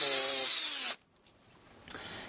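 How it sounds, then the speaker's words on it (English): A power drill boring a pilot hole in a coin whines steadily for about a second, then cuts off into near silence before a faint rustle and a sharp click at the end. "I took a drill bit and drilled a pilot hole"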